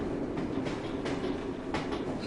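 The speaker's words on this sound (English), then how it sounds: "the train actually moves through the city" A moving train in the Assassin's Creed Syndicate game rolls through a city, a steady rumbling roll with faint rhythmic clatter continuing throughout without talk.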